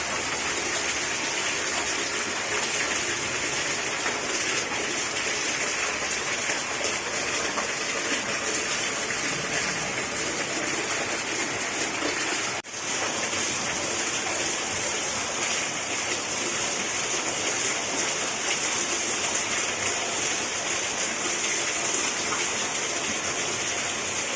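Heavy monsoon downpour in Dhoraji, with water from a roof terrace gushing down, makes a loud, dense, continuous roar that holds steady throughout, with no voices.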